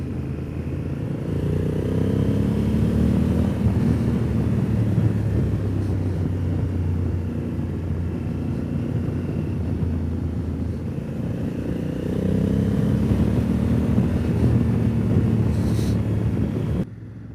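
A 2020 Honda Africa Twin 1100 Adventure Sports motorcycle on the road gives a steady, deep engine drone that rises in two long surges, mixed with loud wind rush and no talking.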